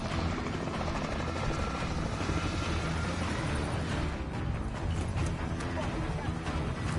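Helicopter in the opening shot of Call of Duty: Warzone, a loud, steady rotor roar that fills the whole stretch without a break.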